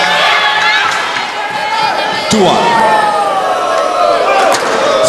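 Crowd noise at a men's team squash semi-final between Malaysia and the Philippines at the SEA Games, a steady roar of shouting and cheering voices with sharp squeaks and a ball smack, while an official talks over it.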